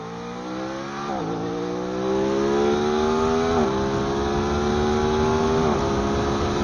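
An Aprilia RS660 motorcycle engine revs up and holds high, its tone climbing in steady sweeps with brief dips between pulls, loud and close with no talking.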